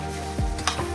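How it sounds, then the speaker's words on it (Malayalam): Chopped tomatoes being stirred into a frying South Indian sundakai masala curry, a spoon scraping the pan in one brief stroke over a low sizzle, with no voices. "തക്കാളി ഇട്ട് ഇളക്കിയതാണിത്."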